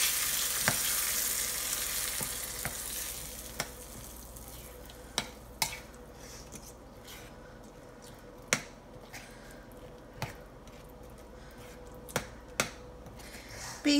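Cashew nut pachadi mixed in a pan, with a sizzle that fades early and then sharp spoon taps and clicks against the pan at irregular intervals, close and quiet, with no voices.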